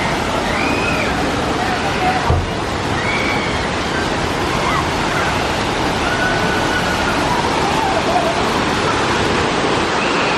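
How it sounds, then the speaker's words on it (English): Waterfalls pour onto a raft ride at a water park, making a steady, loud rushing roar throughout, with faint crowd voices mixed underneath. "There's tons of waterfalls the entire way."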